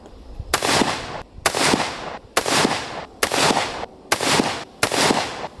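Six sharp, booming gunshots from a Colt 1851 Navy .36 caliber black powder revolver fire at a steady pace, about one per second, each with a loud crack and a ringing decay, no voices between them.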